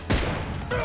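Single sharp M24 sniper rifle shot in a one-on-one video game match, a loud close crack with a brief tail, followed by a second softer burst of game noise near the end.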